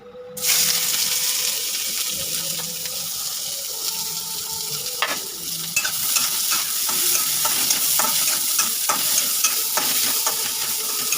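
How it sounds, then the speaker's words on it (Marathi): Onion hitting hot oil for a corn dish, bursting into a loud steady sizzle that crackles on for about ten seconds, with a few brief clinks of a utensil against the pan. "आता वर तेल गरम झाले त्याच्यात आपण कांदा टाकून घेऊया"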